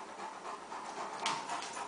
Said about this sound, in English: Hear him panting?